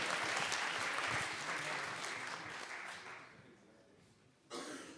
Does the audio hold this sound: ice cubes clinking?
no